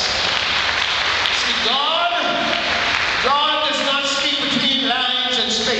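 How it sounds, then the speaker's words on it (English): Congregation applause at a memorial service of praise and thanksgiving, a steady broadband wash of many hands clapping throughout, with sung or shouted voices rising over it partway through. "Give him a clap of praise."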